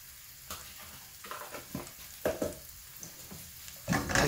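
King prawns frying in olive oil in a hot pan while being stirred, a low sizzle broken by irregular scrapes and clinks of the utensil, growing louder near the end.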